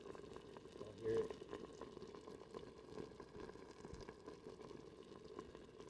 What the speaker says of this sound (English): Y'all hear that bubbling?